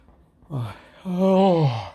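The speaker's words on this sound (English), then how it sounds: "unprofessional to be yawning" A person yawns up close, a short breathy intake followed by a longer, drawn-out voiced yawn that falls in pitch, loud and alone.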